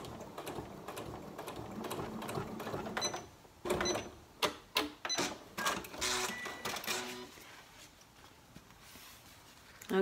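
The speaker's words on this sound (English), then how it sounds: "sew this piece of vinyl into this fabric by just sewing as close to this bottom edge as possible" A sewing machine runs a straight stitch along the edge of vinyl sandwiched into fabric, a soft hum first, then a sequence of short rapid whirring bursts with brief pauses, close up and alone.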